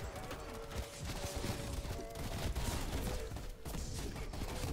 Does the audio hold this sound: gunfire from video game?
yes